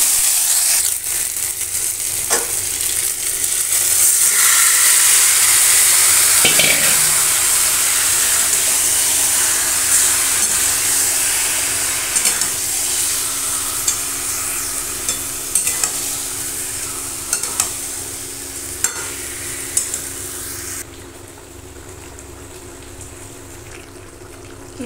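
Dried and green chillies with ginger, onion and garlic paste fry in hot oil in a wok, a steady close sizzle with stirring scrapes running throughout, no voices.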